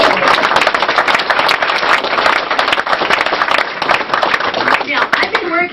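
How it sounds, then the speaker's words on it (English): An audience at a talk in a bookstore claps loudly and continuously for several seconds, a dense close burst of applause that fades slightly at the end. "here's where we need applause"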